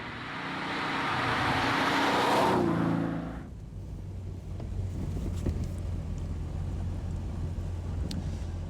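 A 2003 TVR Tamora sports car driving, with a loud rushing roar of engine and wind that swells and then eases into a steadier, lower drone with passing wind buffeting.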